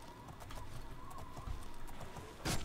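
Horse hooves clip-clop steadily in the video game Oblivion, a continuous moderate rhythm of repeated beats ending in a louder burst.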